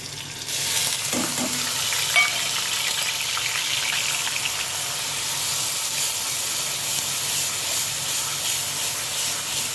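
Chopped onion sizzles and fries steadily in a pan for a tomato gravy, a dense continuous hiss close by, with a brief low stir or clatter near the start and no talking.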